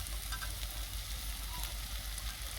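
Pasta frying and being stirred in a pan with onion and tomato, an even, fairly quiet sizzle with soft stirring scrapes throughout and no talking.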